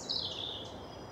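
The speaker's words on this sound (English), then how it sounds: "in a distance there you may be able to hear a chiff-chaff." A chiffchaff sings in spring woodland, a brief high call heard at a distance, faint against a quiet outdoor background.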